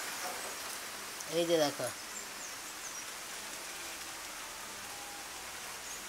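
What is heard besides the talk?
rain falling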